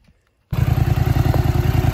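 Polaris Scrambler 850 ATV under throttle with a worn drive belt about to fail, a loud close rattling engine roar with a rhythmic clatter that starts abruptly after a brief quiet.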